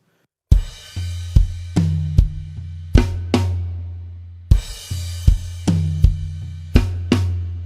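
Drum kit playing an opening bar, with loud, close, evenly spaced hits ringing out between strikes in a steady rock pattern.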